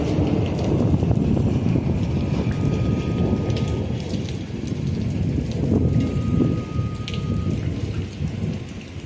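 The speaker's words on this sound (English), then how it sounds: "This is a lightning storm." A thunderstorm drenches the area with steady, loud, heavy rain and deep rolling thunder that rumbles continuously under the downpour.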